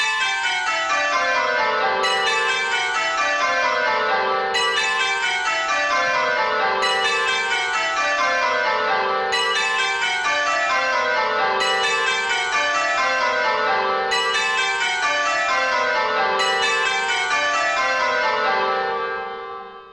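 Church bells ring changes in repeating descending rounds, with pairs of bells swapping places in the sequence, each peal a clear cascade of bright metallic strikes, loud and close, with no voices.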